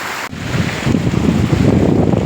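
Heavy rain pours down outdoors while water runs off through a gutter, making a loud, steady broadband roar that continues for the whole stretch with no voices.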